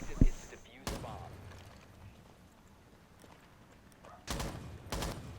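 Gunfire during a competitive Rainbow Six Siege match on Xbox One, a few sharp bursts spaced apart under faint background noise, with a commentator's voice partly audible.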